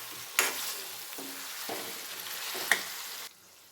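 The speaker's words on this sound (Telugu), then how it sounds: "ఒక 5 మినిట్స్ ఇలాగే ఫ్రై అవనిద్దాం" Chicken pieces coated in masala fry in a pan with a steady close sizzle, broken by a few sharp scrapes and stirs of a spoon; no talking.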